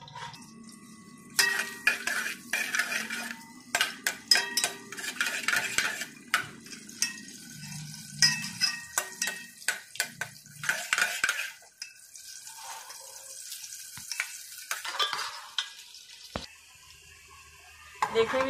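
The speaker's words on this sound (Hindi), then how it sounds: "देखिए मैंने प्याज डाल दिया इसमें। प्याज को मैं लाइट नरम करूंगी।" Onions frying in a pan for moong dal khichdi, stirred with a spoon: steady sizzle with repeated scraping and clinking of utensil against the pot, close and fairly loud, no talking.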